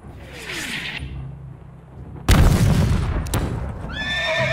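A startled horse rears and whinnies in fright after a sudden loud crash, the shrill neigh rising sharply near the end over rumbling, booming background noise.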